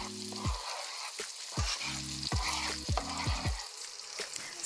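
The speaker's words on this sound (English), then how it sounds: "Sorry y'all for all the scraping noises" A favourite old pan scrapes as a utensil stirs onions frying and sizzling, with several sharp scrapes in an uneven rhythm over a steady crackle.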